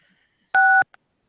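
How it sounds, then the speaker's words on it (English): A single telephone keypad tone sounds loud and clear for about a third of a second, followed by a much fainter short blip, with near silence on either side, as a caller presses star-six to unmute on a community board phone meeting. "you have to hit *6 to unmute yourself."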